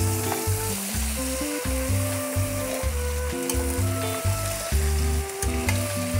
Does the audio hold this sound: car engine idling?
no